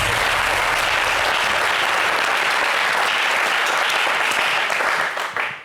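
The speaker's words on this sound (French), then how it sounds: "On applaudit pour elle." A studio audience breaks into loud, continuous applause that holds steady for several seconds before tapering off at the end.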